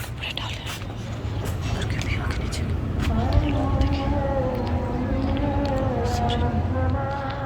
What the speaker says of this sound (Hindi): यहाँ पे अभी असर की अजान हो रही है